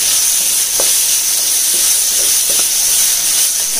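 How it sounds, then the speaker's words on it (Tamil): Tomatoes sauté in a pan for a salna. A loud, constant steamy hiss and sizzle fills the whole stretch, with faint scattered stirring ticks underneath and no voices. "தக்காளி நல்லா வதங்கிடுச்சு."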